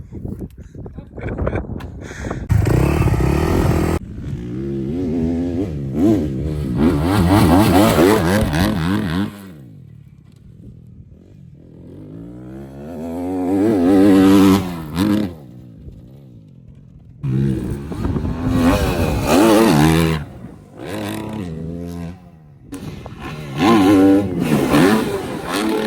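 Motocross motorcycles rev and ride on a track, engines climbing and falling in repeated loud bursts with brief lulls between passes, close by, with some voices heard.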